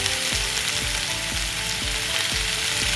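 Potato bhaji sautés in a pan with a loud, continuous sizzle, while a regular ticking or ratcheting click repeats about twice per second close by.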